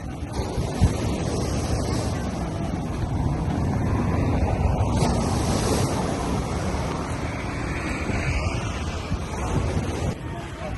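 Sea waves wash up onto a sandy beach where sand sculptures are displayed, a steady broadband roar of surf continuing throughout with wind buffeting the microphone.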